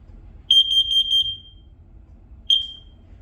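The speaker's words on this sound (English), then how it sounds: "This is actually a smoke and carbon monoxide alarm." A combined smoke and carbon monoxide alarm sounds a rapid burst of shrill, piercing beeps, then a single loud beep after a brief pause. It sounds close, with no talk over it.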